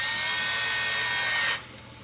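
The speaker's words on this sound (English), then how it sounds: "I'm going to use my little baby screwdriver so I don't accidentally overdo it." A small screwdriver driving screws into tabs on a woodworking project whirs steadily and close for about one and a half seconds, then cuts off, leaving a faint room tone.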